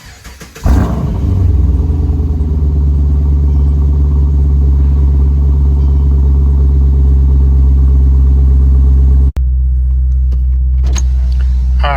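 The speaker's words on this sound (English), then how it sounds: "that was the cold start" A 2013 Chevy Caprice PPV with a muffler delete cold-starts with a sharp crank, then settles into a loud, deep, steady idle. It cuts out briefly near the end before a quieter idle resumes with some faint clicks.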